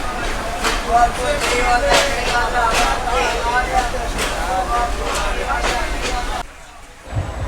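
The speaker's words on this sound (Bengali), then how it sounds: "নোয়াপাড়া স্টেশনে মাত্র দুই মিনিটের যাত্রা বিরতি দিয়ে আমাদের ট্রেন ছুটে চলেছে তার পরবর্তী গন্তব্যর উদ্দেশ্যে" Inside the Mongla commuter train running toward Benapole: a steady rumbling rattle with regular clacking beats under a hubbub of passenger voices, then the noise drops away abruptly near the end.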